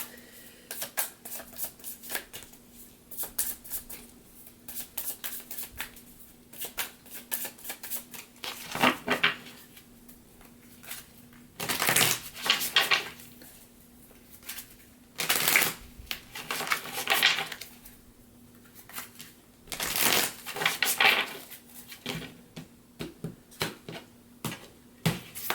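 Tarot cards being shuffled and drawn by hand, with repeated bursts of riffling and flicking between quieter pauses, close and crisp with no talk.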